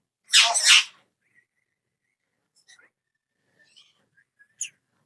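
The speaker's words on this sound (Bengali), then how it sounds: "এটা মিঠু বলে, শীষ দেয়, বিড়ালের ডাক দেয়, আর অনেক কথা বলে ভাই" A tame pet talking parrot gives one loud harsh squawk, then a few faint short whistles and chirps scattered across near silence.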